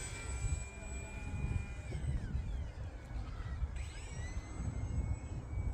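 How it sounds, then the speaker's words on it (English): E-flite UMX Turbo Timber Evolution RC plane flying outdoors in wind over a grassy field, a thin whining motor tone that rises and falls in pitch as it passes, over steady low wind rumble. "Even though it's windy, the UMX planes with the AS3X handles so good"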